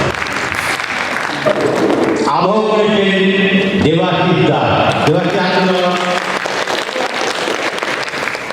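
Theatre audience applause after a Bengali stage play, a steady roar of clapping that runs through the whole stretch while someone speaks over it in the middle.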